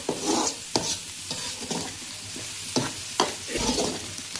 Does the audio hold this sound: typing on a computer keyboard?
no